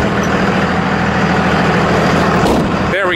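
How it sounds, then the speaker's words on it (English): The hood of a 2001 Dodge Ram 3500 dually with a Cummins diesel is shut with a single loud slam near the end, over the steady, heavy rumble of the idling engine. "now let's go ahead and shut the hood here"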